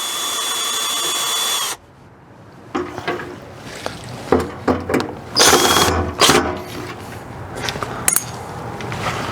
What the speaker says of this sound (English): Just a few more screws and we'll have that copper box out, I believe.